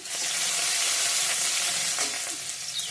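Onions frying in a pan with ginger just added, a loud, close, steady sizzle and crackle running throughout with faint stirring scrapes and no talk.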